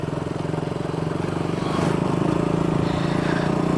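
A motorcycle engine drones steadily close by on a road in Batticaloa, Sri Lanka, growing slightly louder as it approaches, a buzzing rhythmic running sound.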